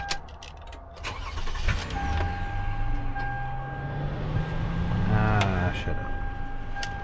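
A Toyota Highlander SUV engine starts and settles into a low, fairly quiet idle, with faint background noise and a voice briefly heard.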